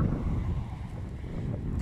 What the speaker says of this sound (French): Désolé pour le vent, il y a pas mal de vent aujourd'hui.